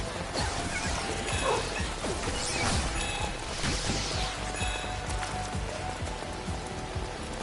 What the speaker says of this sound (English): I like the sound of the rain on the umbrella